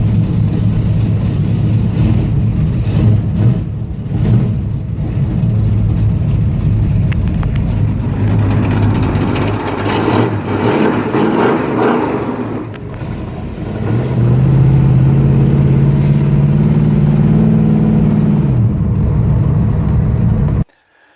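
A 1969 Dodge Coronet Super Bee with manual steering and manual brakes, numbers matching and lately out of several years of storage, rumbles steadily along a road, its loud engine drone rising in pitch near the end before cutting off.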